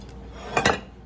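Brief clinks of dishes and utensils while a plate of meatloaf and potato patties with lettuce and onion is fixed, two quick clattering bursts over a quiet background.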